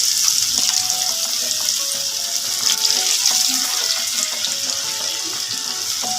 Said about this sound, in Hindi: दो मिनट तक हम इन्हें फ्राई कर लेंगे